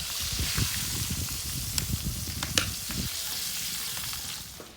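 Sheep testicles, or mountain oysters, frying in a deep fryer give a bright steady crackling sizzle with bubbling pops and a few sharper snaps, close up and fading toward the end, with no voices.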